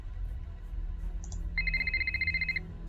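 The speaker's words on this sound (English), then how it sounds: "Oh, phone call?" Telephone ringing in a Nancy Drew video game, preceded by a short chirp, then a steady electronic trill lasting about a second over a low background hum.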